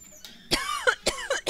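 Someone nearby coughs in several harsh, raspy bursts with throat clearing between them, close and fairly loud.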